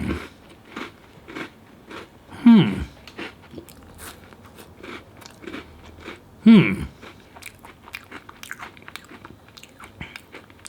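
A Triple Choc biscuit is bitten and chewed, with two distinct crunchy bites standing out, then softer chewing and small crackles in between, close up and fairly quiet.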